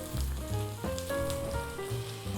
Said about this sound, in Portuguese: agora eu deixo fritar do outro lado e está pronto